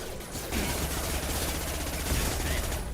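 Gunfire from the video game Mass Effect 2 rattles in a dense, continuous burst of rapid shots at moderate volume throughout.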